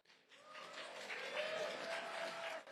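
Faint applause from an audience at a political talk builds up quickly and then holds as a steady, distant patter of many hands, with a voice faintly audible underneath.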